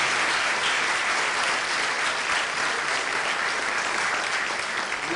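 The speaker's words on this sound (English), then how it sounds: "So, coaches, if everybody give them a round of applause," A school sports rewards night audience applauds the coaches in a thick, even roar of clapping that stays constant and loud from start to finish.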